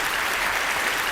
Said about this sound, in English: a little applause for everybody